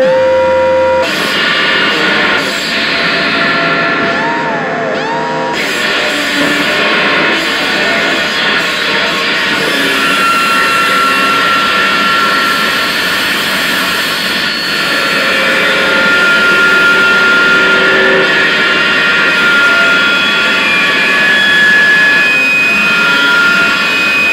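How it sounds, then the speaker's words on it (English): Loud, continuous roaring feedback from a high-output homemade spring instrument driven hard, a dense sustained wash of noise with shifting whining tones running unbroken throughout. "I'm playing around not only with the feedback because it's very high output"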